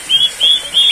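A cucak bird, a bulbul, gives three bright whistled calls in quick succession, close and clear over faint background hiss during a rainy day.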